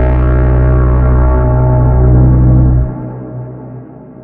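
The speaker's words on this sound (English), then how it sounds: "it's just a big sci-fi bram" A huge cinematic sci-fi braam rings out, a loud, distorted brassy drone with heavy low end that holds steady for nearly three seconds, then drops away into a fading, reverberant tail.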